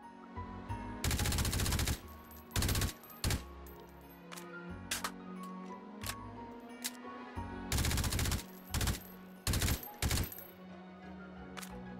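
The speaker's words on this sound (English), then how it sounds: "Let's go full auto." Full-auto rifle fire in Hot Dogs, Horseshoes & Hand Grenades, a tactical rifle or PDW fired in several loud rapid bursts of varying length with short single shots between, close and crisp over quiet background hum.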